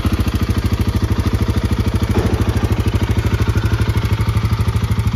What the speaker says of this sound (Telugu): సో ఇప్పుడు మీకు బండి స్టార్ట్ చేసి చూపిస్తాను నేను.